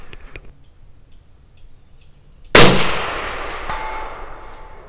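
A single sharp .280 Ackley rifle shot fired with a 145-grain Barnes LRX bullet cracks loudly after quiet moments, then its echo rolls and decays over the next seconds, ending with a faint metallic ring from a distant steel target.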